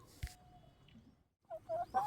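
Free-range chickens in a backyard coop give a few faint, soft clucks and short calls with quiet pauses between them, sounding close but low in level.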